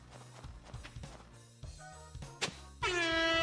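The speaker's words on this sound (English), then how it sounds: "he makes an air horn noise when he explodes" A loud, sustained air-horn blast goes off when a character explodes in modded multiplayer Stardew Valley, following a run of quieter game sounds such as footsteps and clip-clop noises.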